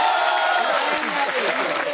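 An audience bursts into steady, dense clapping on a reality show set, loud and continuous, with voices faintly mixed in beneath the applause.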